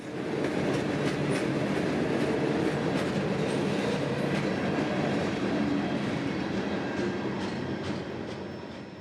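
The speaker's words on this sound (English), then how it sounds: "A solo SD40-3 would be leading this one, with plenty of freight for Brunswick's many customers" A freight train led by a single SD40-3 locomotive rolls past, a loud continuous rumble of wheels on rail with faint clicking joints, steady and near throughout.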